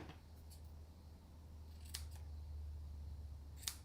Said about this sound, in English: Our new ones cut ribbon really well.